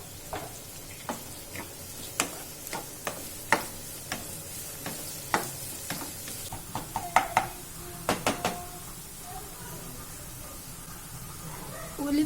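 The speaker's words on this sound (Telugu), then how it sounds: "నూనె వేడైన తర్వాత కొద్దిగా కరివేపాకు, ఆనియన్స్, 3 ఆనియన్స్ వేసుకోవాలి" Curry leaves and onions sizzle in hot oil for Chettinad chicken curry, with soft frying hiss under a run of quick spatula taps and clinks against the pan.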